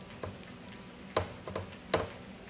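Spinach cooking in a pan with steak and eggs gives a low, even sizzle with a few soft clicks and taps of utensils, faint and close, no talking.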